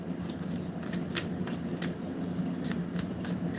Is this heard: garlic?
no